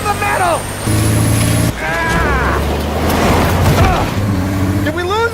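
Game car engine in the Mafia remake roars steadily under a voice, shifting pitch as it speeds along with bursts of traffic noise.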